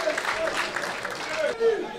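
Spectators at an amateur football match for FC Winterswijk applaud a substituted player, a soft, distant spread of clapping and crowd noise under a commentator talking.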